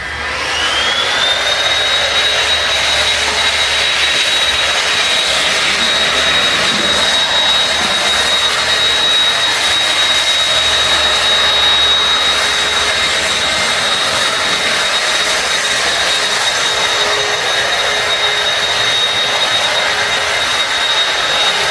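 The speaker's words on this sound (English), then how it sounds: "The vacuum makes a lot of noise" A vacuum cleaner runs steadily and loudly for the whole stretch, with a high-pitched whine that settles to a constant tone over a dense roaring hiss, close by and uninterrupted.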